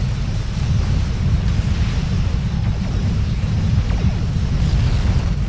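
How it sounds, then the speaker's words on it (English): Quantum torpedoes explode in continuous heavy space combat in Star Trek Online, a loud, dense rumble of overlapping blasts with no clear gaps. "I love the sound of quantums"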